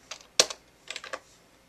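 A few quick bursts of keystrokes on a computer keyboard, close and fairly quiet, with a short pause between clusters.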